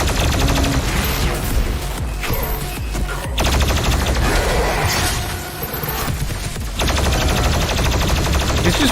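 Gunfire in DOOM Eternal, a first-person shooter game, comes as loud, dense rapid bursts of shots and booms that run almost continuously, with brief lulls between volleys.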